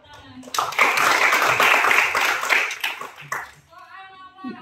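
An audience bursts into brisk, dense clapping that runs for about three seconds before tapering off, with a voice speaking over the end.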